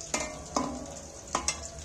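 Pakoras frying in oil over a gentle flame, a soft sizzle punctuated by four sharp scraping stirs of the spatula at uneven intervals, close and clear.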